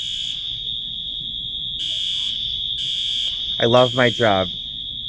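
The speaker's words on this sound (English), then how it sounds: "they're testing the fire alarm at the airport" An airport fire alarm under test sounds a steady, piercing electronic tone that pulses on and off for several seconds, loud and close, with someone speaking briefly over it near the end.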